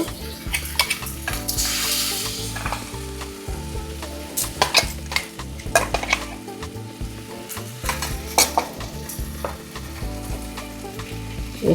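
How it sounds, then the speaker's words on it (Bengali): Ginger-garlic paste frying in hot mustard oil for a Bengali mutton curry, a steady loud sizzle with scraping stirs and occasional clinks of a spoon against the pan, no talking. "এবারে আদা রসুন পেস্টটা দেওয়া হচ্ছে যেটা বাটা ছিল"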